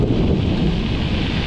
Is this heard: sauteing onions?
no